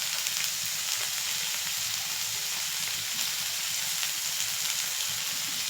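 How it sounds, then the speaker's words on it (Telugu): Ingredients for egg fried rice sizzle in a hot pan, a constant bright frying hiss with no pauses, close and fairly loud, with no talking over it. "ఇది బాగా ఫ్రై చేసుకోవాలి"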